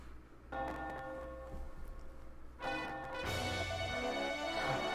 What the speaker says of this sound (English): Listen to that bell ring,